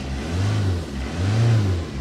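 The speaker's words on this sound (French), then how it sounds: "Bingo, deux voitures qui démarrent." A Citroën ZX and a Peugeot 106, both diesels, fire up after glow-plug preheating, giving a low, rumbling engine note that swells and settles in two broad surges, close by with no talking.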